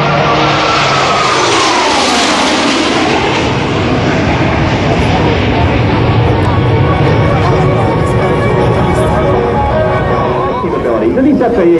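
Loud roar of US Navy Blue Angels jets in a diamond flat pass at about 350 mph over an Air National Guard airshow, a sweeping whoosh that swells and fades beneath steady crowd chatter and a commentator's voice.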